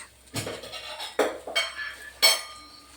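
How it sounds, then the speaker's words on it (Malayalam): A spoon scrapes and knocks against a pan as thick papaya halwa is stirred, giving about five separate metallic clinks and scrapes at uneven intervals, close and fairly loud. "നന്നായിട്ട് ഇളക്കിക്കൊണ്ടേയിരിക്കണം"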